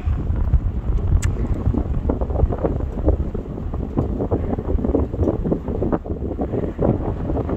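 Strong wind buffets the microphone in low, rumbling gusts that rise and fall throughout, high on a lookout over Goslar in Germany's Harz Mountains, with no voices.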